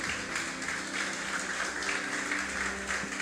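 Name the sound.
congregation applause in church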